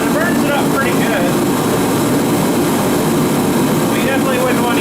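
Turbine heater running inside a shed, a loud, dense, continuous roar with a jet-like whoosh, steady for the whole stretch, with hints of voices underneath.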